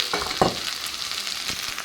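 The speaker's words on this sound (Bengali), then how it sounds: "তো রাত্রে একটু ভেন্ডি আলু ভাজা বসিয়ে দিয়েছি" Okra and potatoes sizzle steadily in a frying pan, close and moderately loud, with a few short crackling bursts and stirring scrapes.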